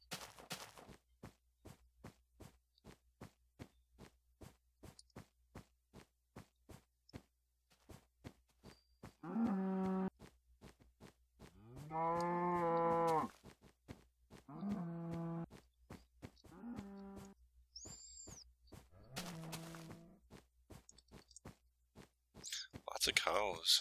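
Cows in Minecraft moo in several drawn-out, harmonic lowing calls spaced apart, over a steady run of clicking footsteps or game ticks, with a faint high game chime.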